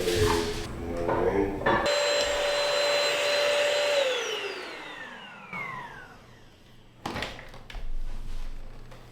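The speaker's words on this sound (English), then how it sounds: "I got a little bit of vacuuming up" A vacuum cleaner whines steadily at close range, its pitch dropping as it powers down midway from a fault, followed by clunks and handling noises.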